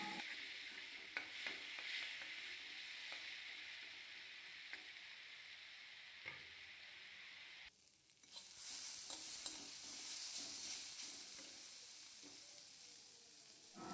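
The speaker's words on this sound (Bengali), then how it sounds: "মশলাটাকে ভালো করে ভেজে নিতে হবে, আর আমি সেটাই ভালো করে ভেজে নিচ্ছি।" Ginger and cumin spice paste frying in a pan for a fish curry, with a soft steady sizzle, scraping stirs throughout, and a louder hissing burst near the end, close and without voices.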